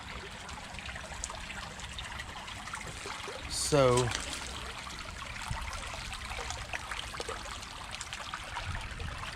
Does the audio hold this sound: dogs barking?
no